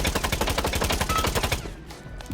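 The ALDA 3 light machine gun fires a rapid, loud, close burst in the Rainbow Six Siege video game, then cuts off, leaving a fading tail for the last second.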